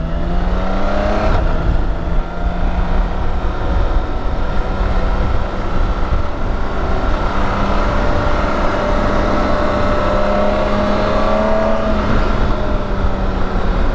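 A BMW K1600GT motorcycle on the move, its steady engine drone and road rumble loud and continuous, with gentle shifts in engine pitch and no talk.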